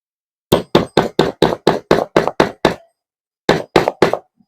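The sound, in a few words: hammering in a cable clamp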